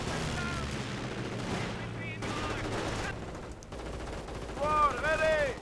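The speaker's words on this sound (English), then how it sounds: "my guys finally might kill this machine gun nest that they've been dueling with forever" Machine gun fire crackles through a Company of Heroes battle as the Panzer Elite face a machine gun nest, with bursts mixed into dense war ambience and a voice talking over much of it.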